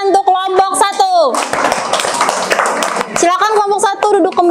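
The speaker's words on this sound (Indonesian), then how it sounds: "berikan tepuk tangan untuk kelompok 1" A classroom group breaks into brisk, loud clapping for about two seconds, close by, with children's and a teacher's voices talking just before and after.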